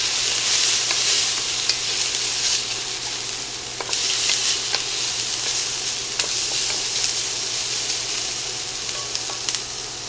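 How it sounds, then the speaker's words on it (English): Garlic sizzling in hot oil while being stirred into a one-pot creamy Italian sausage pasta, a steady close frying hiss with occasional spoon scrapes and brief louder crackles. "we're going to go ahead now at the last minute and just add about 2 teaspoons of garlic"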